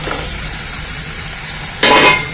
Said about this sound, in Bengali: এবারে একটু নেড়ে দিলাম।